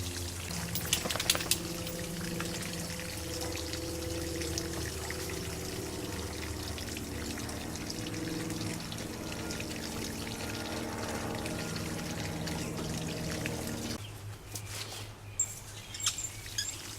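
Water from a leaking garden hose trickles and pours steadily and close, with faint bird chirps in the background, then cuts off abruptly near the end leaving a few small knocks.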